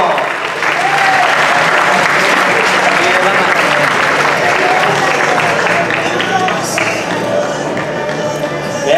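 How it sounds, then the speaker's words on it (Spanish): Audience applause fills a cosplay contest at a comics convention, steady and loud dense clapping from a crowd throughout, with faint voices mixed in. "muy bien, un aplauso."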